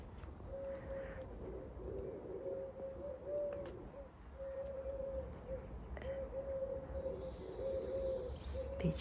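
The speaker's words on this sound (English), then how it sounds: "Pigeon." A pigeon coos in a garden in a repeated series of soft, low, drawn-out calls, moderately close, over a steady outdoor background hiss with faint insect-like chirring.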